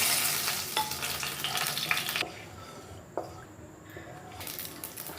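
Bay leaf dropped into hot oil in a pan while cooking pointed gourd korma, giving a loud, close sizzle that crackles for about two seconds, then quiets to a low hiss with a few sharp pops.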